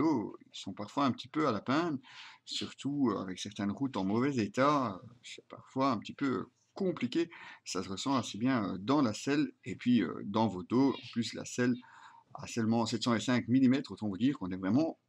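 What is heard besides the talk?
No everyday noise stands out behind the speech.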